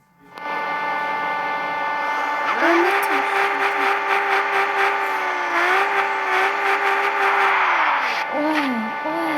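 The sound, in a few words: Toyota Supra engine revving in Car Parking Multiplayer video game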